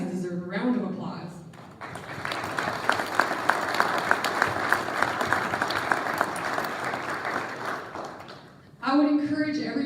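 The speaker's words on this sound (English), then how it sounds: "I think you guys deserve a round of applause" Audience applause fills the room for several seconds, dense and steady with some sharper claps, framed by a person talking just before and after.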